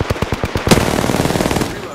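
Automatic weapon fire in the video game Apex Legends, rapid evenly spaced loud bursts followed by a denser sustained volley, close and punchy.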